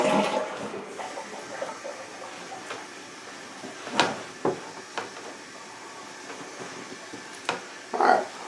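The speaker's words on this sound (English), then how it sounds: "flush the toilet and then just kind of keep an eye on it" A newly replaced toilet is flushed, giving a gurgling rush of water followed by intermittent splashes and clicks as the tank refills, with sharp bumps and a closer burst near the end.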